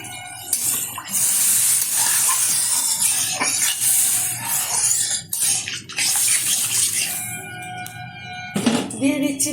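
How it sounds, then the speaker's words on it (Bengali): Water poured into a pan of simmering potato and pumpkin-stem greens curry, a steady broadband wash of running, splashing liquid lasting most of the stretch, with faint pan clatter near the end. "দিয়ে দিচ্ছি পরিমাণ মতো জল"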